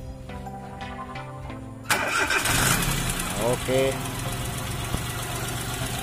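A rebuilt 800cc Chevrolet Shark engine cranks and catches with a loud burst, then settles into a steady, rough idle close by, while someone talks over the running motor.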